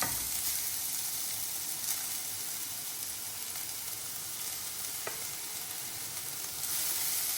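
Chopped plantain (ethakka) sizzles and fries in a pan with garlic and green chilli, a steady bright hiss with a faint stir click, and no speech.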